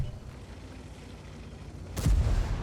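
A tank cannon fires while the hull is moving in the video game World of Tanks, one sharp, heavy shot near the end of a low, steady engine rumble.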